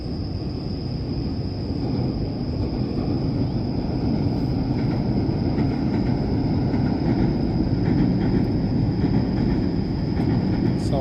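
A train rumbles past steadily by a river in Tokyo in the evening, a continuous heavy roar of wheels on rails with a faint high whine above it.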